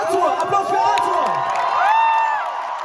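A large arena crowd at a concert in Berlin's Max-Schmeling-Halle cheers, whoops and applauds for a fan named Arthur, a dense, loud roar of voices with shouts rising over it throughout.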